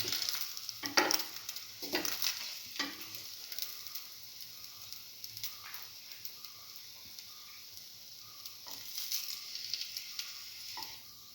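Cinnamon French toast made with egg-soaked bread fries in a pan, giving a steady soft sizzle throughout, with a few utensil clicks and scrapes early on, close and quiet, with no talking.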